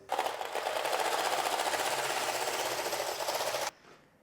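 A Passap Duomatic 80 knitting machine carriage runs across a zigzag row, a steady loud whirring rattle for several seconds that stops abruptly, with no talk.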